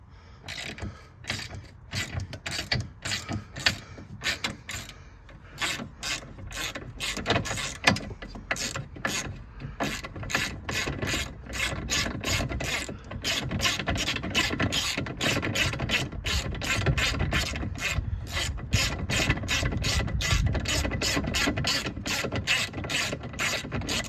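A ratchet wrench works loose a 19 mm bolt on the lower mount of a VW Beetle rear shock, clicking in fast repeated bursts of pawl ticks with brief pauses, close and continuous, with no speech.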